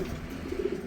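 A racing pigeon in a loft gives a low, throaty coo that swells in short pulses, close and clear over a soft, steady background murmur.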